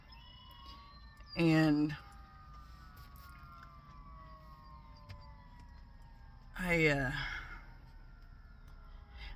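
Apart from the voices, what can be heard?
emergency vehicle sirens outside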